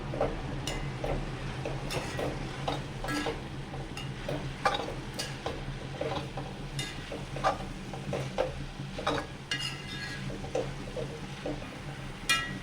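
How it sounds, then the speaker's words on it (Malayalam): Chopped spinach leaves stirred into a carrot stir-fry in a pan, with repeated scraping and tapping of a spoon over a low steady sizzle and hum, close and continuous. "ചീരയുടെ ഇല അരിഞ്ഞത് അതിലേക്ക് നമ്മളത് ഇട്ട് കൊടുക്കാം നമ്മൾ നന്നായി മിക്സ് ചെയ്ത് കൊടുക്കാം"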